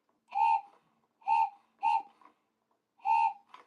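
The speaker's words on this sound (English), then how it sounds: "He has such a cute whistle." A giant Thomas toy train gives four short, clear whistle toots in an uneven rhythm, each a bright steady tone followed by a soft trailing hiss, heard close and alone.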